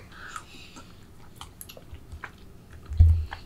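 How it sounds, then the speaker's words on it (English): Chewy tteokbokki rice cakes coated in sauce are chewed up close with soft, wet, irregular bites, followed by a brief thump near the end. "Just eating with the tteokbokki sauce, it's really good."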